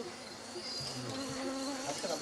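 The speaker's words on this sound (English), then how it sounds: "in the open among all the bees, among the flies and mosquitoes" Bees and flies buzzing in a Gabon rainforest, a continuous faint drone with wavering tones as insects pass near, steady throughout.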